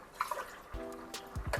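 Water poured into a measuring vessel while cooking vegetable rice in a home kitchen, heard as a few short splashing, trickling bursts near the microphone, with faint clinks between them.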